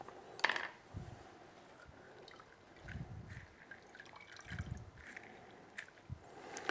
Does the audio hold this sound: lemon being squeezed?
yes